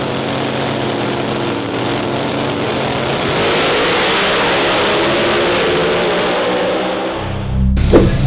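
A Pro Modified drag racing car at the Nitrolympx 2009 event roars with a loud, sustained engine blare that swells midway, then cuts off near the end with a final burst and rumble.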